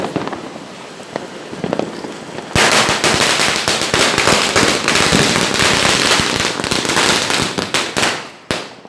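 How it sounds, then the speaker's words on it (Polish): Fireworks and firecrackers go off at a festive celebration in India. Scattered pops give way to a dense, loud, continuous barrage of rapid crackling bangs with no pauses. "Uwielbiają sztuczne ognie, fajerwerki"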